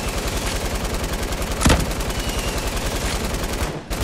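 Rapid, evenly spaced gunfire from the Fortnite video game rattles continuously, loud and dense, with a brief heavier blast partway through and a short dip near the end.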